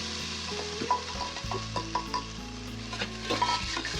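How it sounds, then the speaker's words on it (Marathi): Corn and mixed vegetables sautéing in butter with garlic make a steady sizzle in a pan, broken by repeated scraping, clattering stirs from a spoon, heard close and alone without talk. "आता आपण याच्यामध्ये भाज्या परतून घेणार आहोत"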